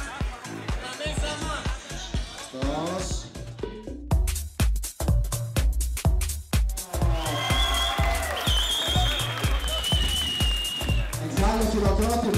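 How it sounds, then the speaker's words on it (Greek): Audience at a Greek launch event for World of Warcraft: Mists of Pandaria claps and cheers, a dense burst of applause with crowd noise that surges and continues throughout, with voices mixed in. "χειροκρότημα."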